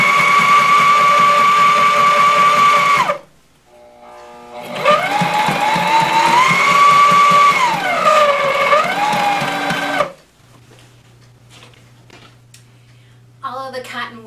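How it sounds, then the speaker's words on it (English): A sewing machine stitches cotton welt cord onto a bench seat cushion, running in two steady, loud motor bursts with a short pause between, then dropping to a low, quiet hum. "then I can continue on with the stitching of the welt cord"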